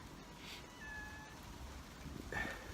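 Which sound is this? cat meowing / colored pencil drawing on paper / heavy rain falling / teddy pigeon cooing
cat meowing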